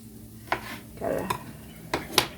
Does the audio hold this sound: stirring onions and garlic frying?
yes